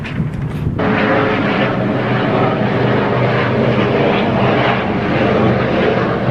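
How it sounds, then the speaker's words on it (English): A loud, steady engine drone from a helicopter overhead, continuous and unbroken throughout, with no talking. "There's a helicopter right here. Let me see if I can catch this helicopter."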